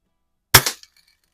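A stock Reximex air rifle loaded with Hornady Black Diamond pellets fires one sharp, close crack that dies away quickly, with nothing else around it.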